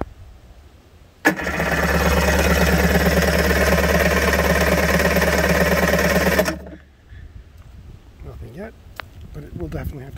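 A 1991 Kawasaki 550SX jet ski engine, first start in six years, catches abruptly and runs loud and steady for about five seconds, then cuts out, leaving quiet handling noises and a voice afterward.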